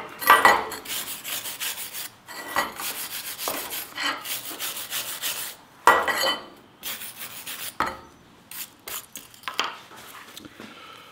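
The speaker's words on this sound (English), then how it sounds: "Get a wire brush on it." A wire brush scrubs a fresh weld in bursts of harsh, scratchy rubbing strokes, close and fairly loud, broken by short pauses.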